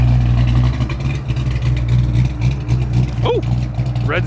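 Ford Mustang Fox body engine rumbling at a car meet, a low steady exhaust drone with faint revs, with people talking nearby.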